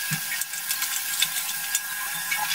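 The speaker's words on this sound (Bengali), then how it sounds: "এখানে একটা মাঝারি সাইজের লাউ আমি কুচি কুচি করে কেটে নিয়েছি, সেই লাউটা আমি এর মধ্যে দিয়ে দিচ্ছি।" Finely chopped bottle gourd goes into a pan of rohu fish head masala, giving a soft steady sizzle with light stirring scrapes over a couple of seconds.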